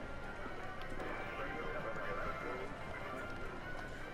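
Galloping horses at casino horse races in GTA Online, a busy continuous clatter of hooves with occasional neighs, with voices and crowd noise mixed in.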